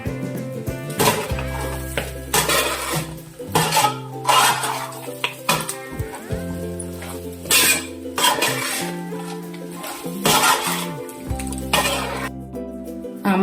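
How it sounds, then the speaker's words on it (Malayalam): Coconut, onion and garlic being stirred in a pan for beef fry, with a spoon scraping and clinking against the metal in steady repeated strokes, fairly close and continuous, over a low background hum. "തേങ്ങ, ഉള്ളി, വെളുത്തുള്ളി എല്ലാം ഇട്ട് ഒന്ന് ഇളക്കാം."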